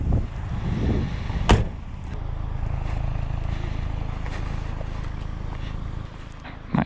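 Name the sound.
car door opening on a steep hill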